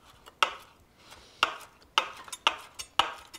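Knife chopping herbs on a cutting board in a cooking lesson: five or six sharp, separate knocks at an uneven pace, close and clear, with no talk.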